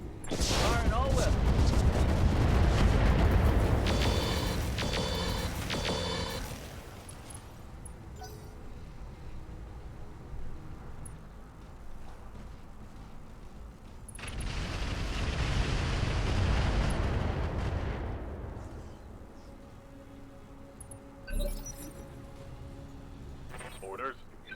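A mech in BattleTech Roguetech unloads all its weapons in heavy, booming volleys with rumbling explosions and metallic clatter, fading, then a second loud barrage, while a person talks over parts of it.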